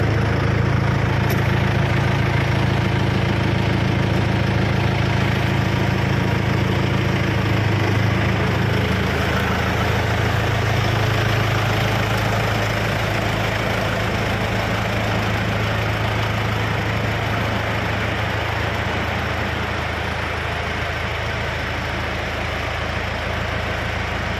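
A Kubota M7508 tractor's diesel engine runs steadily and close up, with a loud, continuous low rumble and slight shifts as it revs, and no talking over it.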